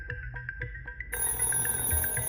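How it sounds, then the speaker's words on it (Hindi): A phone rings with a repeated electronic bell-like tone, a steady series of short pulses that grows denser and louder after the first second, with no talk over it. "फोन बज रहा है।"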